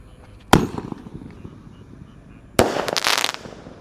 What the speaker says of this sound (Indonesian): di sini ada Bima Sakti Roman Candle yang ukuran 3 inci guys